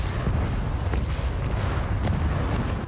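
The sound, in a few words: bombs exploding, dropped by jet in a movie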